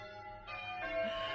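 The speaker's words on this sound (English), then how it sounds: "the church just across there has been ringing its bells since early this morning" Church bells ring out on a Sunday morning across from a canal walk near Cromford, a steady metallic peal heard at a moderate distance with no voices over it.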